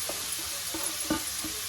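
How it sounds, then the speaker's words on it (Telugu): Grated carrots sizzle in hot ghee for carrot halwa, a steady close crackling hiss broken by a few soft stirring scrapes. "నెయ్యి వేగినాక మనం క్యారెట్ వేసుకున్నాం."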